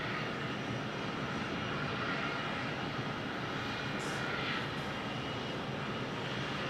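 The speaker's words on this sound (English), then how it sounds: "Oh, we got a pushback behind us." Aircraft engines roar steadily nearby as a jet is pushed back at Phoenix Sky Harbor airport, a broad continuous rumble with no talk.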